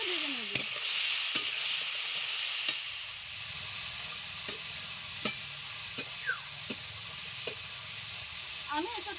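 Young jackfruit pieces fry in a pan with a steady soft sizzle, broken by about a dozen sharp clicks of a spatula scraping and stirring at irregular intervals.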